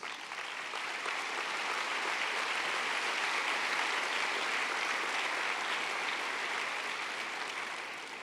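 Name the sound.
congregation applause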